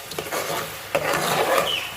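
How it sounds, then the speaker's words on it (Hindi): Masala spices with garlic and ginger roasting in a pan for chana masala, a steady rasping sizzle with scraping stir strokes throughout, close and continuous. "ये देखिए, हमारा मसाला जो है भुन रहा है।"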